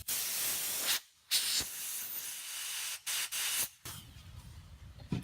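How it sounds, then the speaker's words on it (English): Compressed air blasts in several short bursts, clearing chips out of a Mule 2510 carburetor, a close, loud hiss separated by brief pauses. "let's blow the chips out first"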